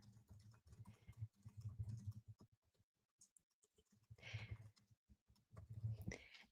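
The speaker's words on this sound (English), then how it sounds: "Sorry, I'm typing on X here." Typing on a computer keyboard produces soft, quick clusters of key clicks in irregular bursts with short pauses, quiet and close, with no talk.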